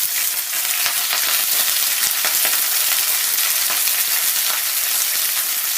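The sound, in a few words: Swiss chard frying in oil in a pan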